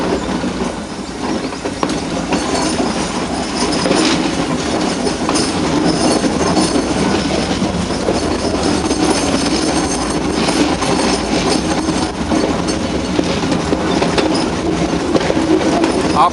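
Ooty's Nilgiri mountain train runs through a tunnel, heard from the brake van: a loud, continuous rattle of wheels over rail joints with metallic clatter and occasional squeal throughout.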